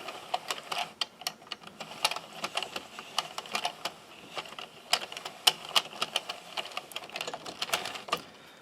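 A knitting machine carriage runs back and forth casting on waste yarn for a coffee cozy, giving a quick, irregular train of light clicking ticks at close range with no voices.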